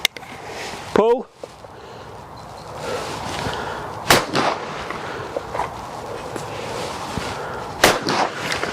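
Shots from an old English hammer shotgun crack out sharply outdoors, one near the start and two more sharp reports later, with someone talking and calling for targets between shots.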